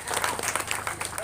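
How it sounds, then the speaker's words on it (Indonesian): An audience at an Islamic boarding school event in Indonesia gives a short burst of dense applause, many hands clapping at once, close and loud, with a voice speaking over it. "Luar biasa. Tepuk tangan beliau."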